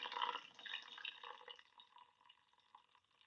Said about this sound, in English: So I'm going to add 700 grams of water here.